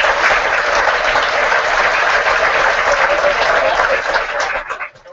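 High school graduation audience gives a big, sustained round of applause for retiring staff, a steady dense roar of many hands clapping that tapers off near the end.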